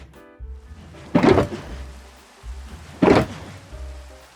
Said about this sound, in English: And now it's raining, great.